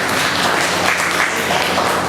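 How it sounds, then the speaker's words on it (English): Conference audience applauding, a dense steady wash of many hands clapping at once that holds at an even level from start to finish, with no voices standing out. "And I think we should applaud him for that."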